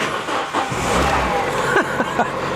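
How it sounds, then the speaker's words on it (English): A Renault Sport Clio left sitting in a garage for three years cranks and catches on the first try, a brief starter churn followed by the engine firing and settling into a steady idle, close and fairly loud. "unlike any traditionally unreliable French car, it started first time"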